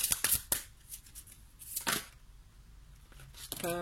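Tarot cards being shuffled and drawn by hand, giving a few quick riffling bursts at the start, a longer shuffle near the middle and a rustle at the end, with brief speech at the close.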